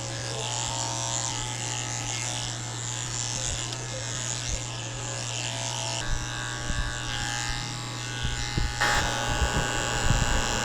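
Electric pet clippers fitted with a number 3 blade buzz steadily while grooming a Maltese's coat, a close, continuous motor hum with slight changes in load as the blade moves through the fur.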